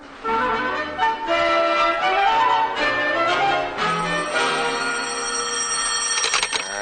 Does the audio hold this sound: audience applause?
no